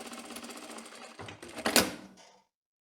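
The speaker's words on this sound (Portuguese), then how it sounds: "essa parte aqui que faltou, eu vou costurar" A sewing machine stitches a tailored skirt in a quick run of mechanical needle chatter that swells into a louder burst near the end, then stops, close by with no talking.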